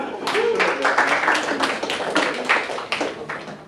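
Crowd at a comedy club clapping for two performers taking the stage, a loud burst of many hands with distinct sharp claps throughout, fading slightly toward the end.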